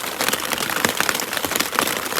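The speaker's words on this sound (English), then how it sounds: "We didn't make it before the storm hit, and it's hailing." Hail pelts down during a mountain storm on the Pacific Crest Trail, a dense, continuous patter of sharp ticks and taps striking the surfaces nearby.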